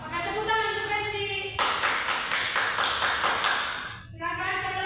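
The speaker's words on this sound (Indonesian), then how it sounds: "tepuk tangan untuk Daisy" Students in a classroom clap for a classmate, a dense burst of rhythmic hand claps lasting a few seconds between stretches of a voice talking.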